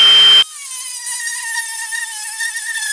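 A cutting disc slices a small section off a workpiece for a Thor hammer bottle opener build: a brief loud burst, then a steady, high, whining tone that holds alone without talk.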